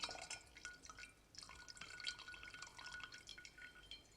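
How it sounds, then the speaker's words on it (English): Quiet, irregular drips of water falling in little drops onto crystals, producing a sparse series of small glassy plinks and taps. "a constant but regulated flow of water, falling into little drops onto the crystals"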